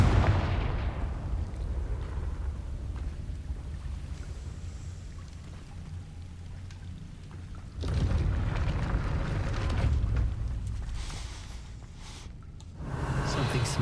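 A Confringo blasting spell goes off in Hogwarts Legacy, the fiery hit bursting loud and close at the start, then a rumbling roar that swells again around the middle and once more near the end over a steady low ambient drone.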